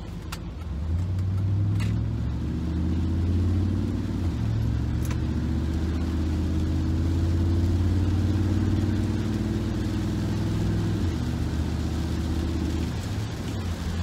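A 1997–2004 Ford F150 truck engine drones steadily while driving after a gear change, newly fitted with 4.10 gears in place of 3.55, a loud continuous low hum with road noise throughout and no voices.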